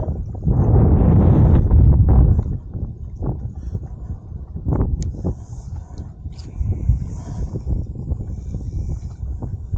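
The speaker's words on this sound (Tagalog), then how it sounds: "Malakas ng hangin." Strong wind at a fishing spot in Baseco buffets the microphone in heavy low rumbling gusts, loudest early on, with a few faint clicks and knocks in the background.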